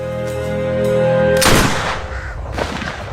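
A single sharp gunshot at birds flying overhead in a Korean drama scene cuts abruptly through a sustained musical passage, followed by a shorter, fainter crack a second later as the sound decays.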